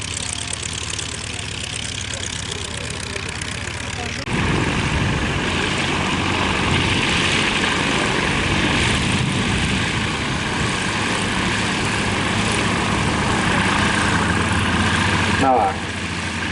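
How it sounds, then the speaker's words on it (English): A classic Miles Gemini propeller aircraft taxis at an air show, its engine droning steadily and loudly after a quieter opening, with a voice talking over it. "another Miles aircraft, therefore, taxis in the form of the Gemini."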